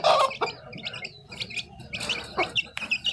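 Chickens on a livestock farm cluck and chirp while being fed rice, with several short, close calls scattered in an irregular rhythm and no talking.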